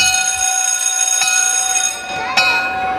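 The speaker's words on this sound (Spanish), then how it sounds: "Una campana o un timbre nos avisaba que había llegado la hora del patio." A school bell or buzzer rings for recess, a steady electric ring with a strong sustained tone, interrupted by a couple of brief clatters and a slight drop in level partway through.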